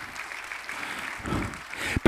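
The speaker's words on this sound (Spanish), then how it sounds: "Dale otro fuerte aplauso de gratitud al Señor." A church congregation applauds in gratitude during a sermon, a broad wash of clapping under crowd voices that swells midway before a sharp louder burst at the end.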